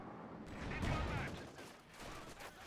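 Incendiary rounds fired at conscripts in the strategy game Company of Heroes: a quiet, continuous rattle of gunfire and distant bursts lasting the whole short stretch, with battle noise beneath.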